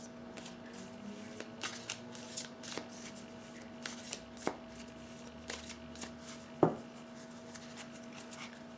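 Tarot cards handled and shuffled at close range, a series of soft flicks and taps spaced irregularly over several seconds, one sharper snap later on, with a steady faint hum underneath.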